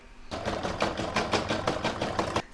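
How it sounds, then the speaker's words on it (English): A domestic sewing machine stitches around a poinsettia coaster in a quick, even burst of rapid mechanical needle strokes lasting about two seconds, close and moderately quiet, with no talk. "I'll now pop that in my machine, and I'm going to stitch round number 3, which is going to secure it."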